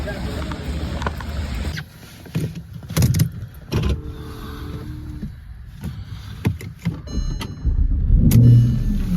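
A car engine in a city setting in Kyiv, Ukraine, turns over and runs amid traffic and street noise, with low rumbling bursts and clatter, moderately loud and close, ending in a stronger low roar.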